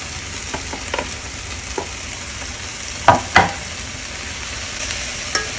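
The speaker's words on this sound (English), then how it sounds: "Now let's go ahead and add our green beans and our shredded cabbage." Green beans and shredded cabbage stir-fry in a pan with softened root vegetables for a Filipino fresh spring roll filling: a steady close sizzle with scattered clacks and two sharper knocks of the utensil against the pan.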